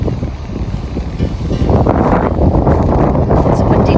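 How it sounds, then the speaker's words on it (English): Strong wind buffets the microphone at Tin Can Bay, a small coastal village in Queensland, a loud steady roar with gusty rustling throughout and no voices. "It's a windy day,"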